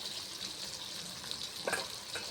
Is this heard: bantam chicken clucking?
no